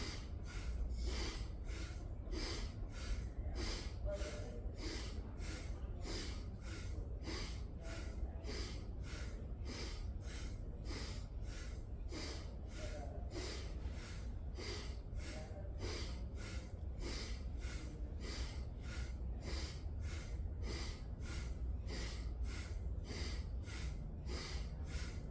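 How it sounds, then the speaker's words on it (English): Slow, deep yoga breaths with steady rhythmic inhales and exhales, close and fairly quiet, repeating in an even cycle for the whole span with no talking. "You should hear your breathing."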